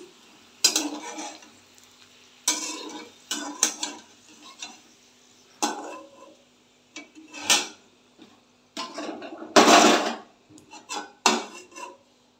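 Vegetables being fried and stirred in a pan for a vegetarian dish, heard as repeated scraping and clattering bursts of a utensil against the pan with a faint sizzle underneath, close by and without talk.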